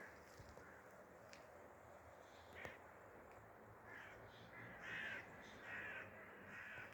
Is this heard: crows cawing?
yes